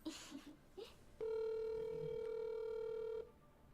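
A phone call ringing out unanswered before forwarding to voicemail, with a single long steady electronic tone sustained for about two seconds after a few short beeps, fairly faint, amid some background talk.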